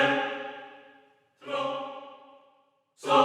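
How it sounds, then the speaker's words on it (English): Choir voices sing three sustained chord swells, each fading away before the next entry, with brief silences between them. "Then we've got this choir."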